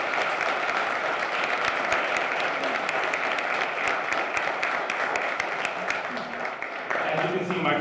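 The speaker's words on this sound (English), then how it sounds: "I want to give her again a round of applause" Sustained applause from an audience at a ceremony, steady and dense throughout, with a voice speaking over it near the end.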